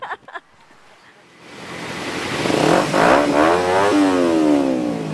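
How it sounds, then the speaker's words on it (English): A small, loud motorbike engine revving up, the whine rising and climbing steadily after a few short thumps, close and loud throughout with no talk over it. "I got the little baby bike. But it's the loudest bike."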